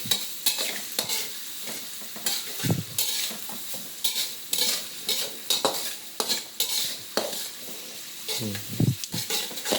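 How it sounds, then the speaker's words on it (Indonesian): Fried rice slowly stirred in a sizzling pan, with a spatula scraping and tapping in uneven bursts over a constant frying hiss, heard up close and without speech. "Kita aduk-aduk perlahan."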